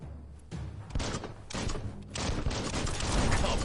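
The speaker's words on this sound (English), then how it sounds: "Shoot it and watch it blow." A barrel blowing up after being shot in the action game Biomutant, a dense, loud burst of rumbling blasts and debris that swells and keeps roaring for several seconds with no talk over it.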